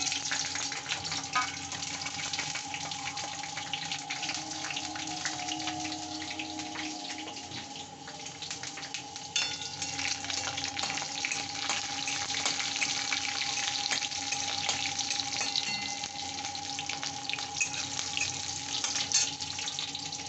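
Spices tempering in hot oil for a traditional Bengali biulir dal with jackfruit seeds, giving a steady, close, dense sizzle and crackle that runs continuously without talk.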